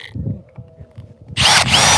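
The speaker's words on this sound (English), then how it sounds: "now it's ready to drill" A power drill with a keyless chuck whirs up loudly at close range for about a second of steady high-pitched motor whine, after a stretch of low handling and clicking sounds.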